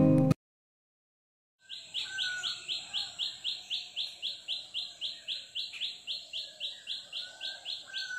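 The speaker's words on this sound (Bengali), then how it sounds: "এত সবুজে ভরা গাছপালার মধ্যে সুন্দর পাখির মিষ্টি ডাক শুনতে চুপ করে বেশ ভালো লাগছিল" After a short silence, a bird chirps in a home garden full of green leafy plants, giving a rapid, evenly spaced string of bright, high calls, fairly near and unbroken by talk.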